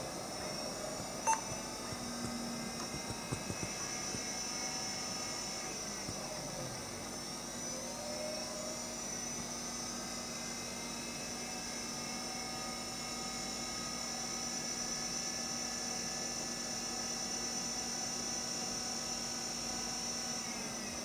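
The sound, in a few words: hard drive spinning up and down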